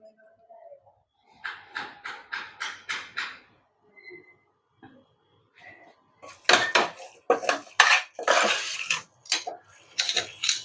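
Gongura chutney is stirred with chili powder and spices in a bowl, a spoon clinking and scraping in quick rhythmic bursts close by, with pauses and then a busier, louder spell of mixing.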